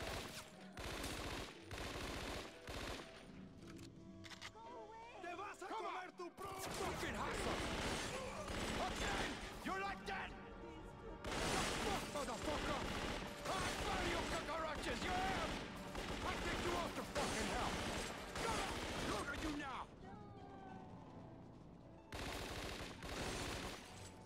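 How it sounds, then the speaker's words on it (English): Long stretches of sustained automatic gunfire in Scarface: The World Is Yours, dense and loud, broken by a few short pauses, with voices talking over parts of it. "Though she's walking right into gunfire."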